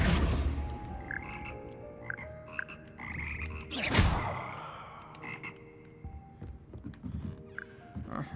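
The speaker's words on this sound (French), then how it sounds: "Ah, j'adore ici, c'est les grenouilles!" Frogs croak in a pond area of Hogwarts Legacy, a chorus of repeated throaty calls near and far, with a brief loud rush in the middle and no speech.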